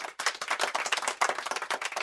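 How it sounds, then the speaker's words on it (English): A conference audience claps for a digital facilitator, dense overlapping hand claps at steady volume for about two seconds, fairly close and without talk over it. "A big applause once more."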